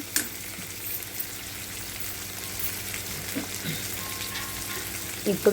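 Onions fry in a pan with a soft, steady sizzle, joined by occasional light stirring and a few louder clinks near the end.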